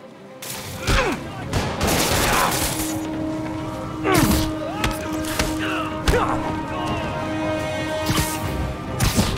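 Gunfire rings out in the Marvel's Spider-Man Remastered video game, a rapid scatter of loud shots, thuds and cracks mixed with impacts and clatter, as voices talk underneath the chaotic combat.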